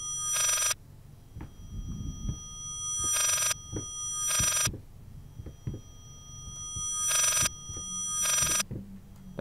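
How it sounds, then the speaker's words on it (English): A telephone rings in the horror video game Layers of Fear, sounding as five bright, evenly spaced ring bursts separated by quieter pauses with low rumbling ambience beneath. "That sounds like a phone."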